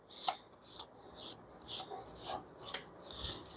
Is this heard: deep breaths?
no